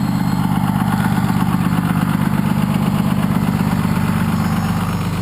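A 6.2-liter Cummins diesel truck engine idles with a steady, deep, throbbing rumble and constant vibration, loud and close, with no other sounds.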